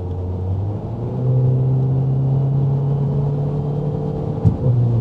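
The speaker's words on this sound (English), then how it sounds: "You literally hear the turbos" A turbocharged car descends a winding mountain road in the Brecon Beacons, Wales, with a steady low engine drone and faint whirring rising slightly over a few seconds, plus a brief bump near the end, with no talking.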